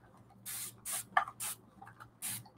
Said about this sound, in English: just gonna get my spray bottle, and I'm going to wet them so we can activate them.